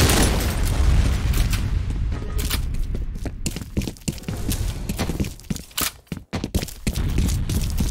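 Grenade blasts go off in the F.E.A.R. Combat video game, several loud booms and sharp bursts in an irregular rhythm over a busy battle, with choppy gaps and close, punchy impacts.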